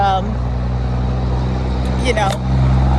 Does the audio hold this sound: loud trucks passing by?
yes